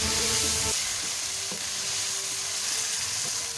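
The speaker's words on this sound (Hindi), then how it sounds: "इनको अच्छी तरीके से मसाले में भून लेंगे।" Turmeric, coriander powder and whole cumin sizzle steadily in hot oil with masala for a liver karahi, a continuous close frying hiss with a brief stir near the start.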